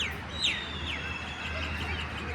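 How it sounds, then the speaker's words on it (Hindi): Small birds chirp and tweet from their nests on a cold, hazy day, with a few thin, quick downward-sweeping calls at a moderate distance over a steady low background hum, no talking. "पक्षियों की चहचहाट, ये भी छुप गए घोंसले में, लेकिन इनका चहचहाना हमें सुनाई दे रहा है।"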